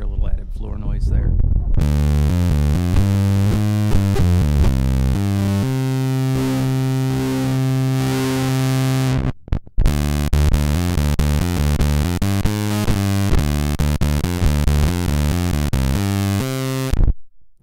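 An electric guitar through a Z.Vex Woolly Mammoth fuzz pedal drones and shifts in thick sustained blasts, harsh and saturated, briefly cutting out midway before continuing with choppier pulses.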